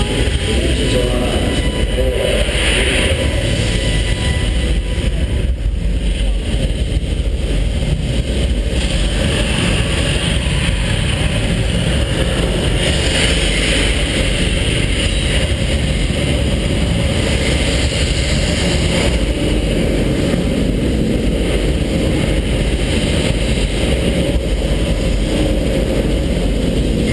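A rocket's engines at launch rumble in a deep, continuous roar heard from a distance, steady and broad with low-end pressure and wind buffeting the microphone throughout, without any talking.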